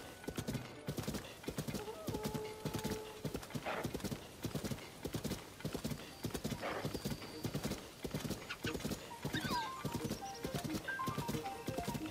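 Horse hooves in the video game Zelda: Tears of the Kingdom, a steady rapid clip-clop of a galloping horse with occasional whinnies and snorts, layered with game music and effects.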